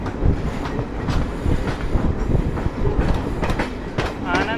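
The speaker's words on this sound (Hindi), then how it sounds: "आनंद विहार से पूरी जाने वाली अपनी शायद नीलांचल एक्सप्रेस है" Neelanchal Express, the Anand Vihar to Puri service, rolling past on parallel tracks, with loud continuous rumble and rhythmic clickety-clack of wheels over rail joints, close by throughout with a brief squeal near the end.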